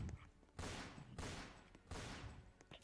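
Three evenly spaced gunshots from a rooftop in the Roblox Fortnite Simulator game, each a sharp blast with a decaying tail, heard fairly faint.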